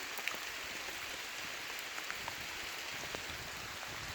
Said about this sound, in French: donc là il pleut, mais alors comme il faut